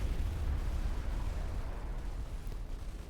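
A nuke detonates in the Supreme Commander 2 strategy game, a low continuous roaring rumble that fills the whole stretch with dense broadband noise, fairly faint and steady with no talk over it.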